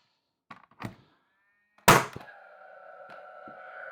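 A Paslode Combi Xi 2-in-1 framing nailer fires a couple of nails, two or three close, sharp thunks followed by one loud bang with a lingering ringing tone, no talk.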